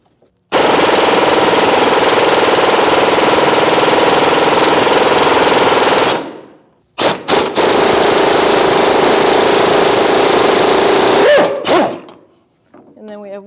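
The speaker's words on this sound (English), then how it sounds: "I'm going to take a 1/2-inch drive swivel socket and a 1/2-inch drive gun" A half-inch drive impact gun hammers out 18mm rear hub bolts on a 2016-2025 Chevrolet Malibu, in two loud, sustained rattling bursts of about six and four seconds separated by brief pauses and short blips.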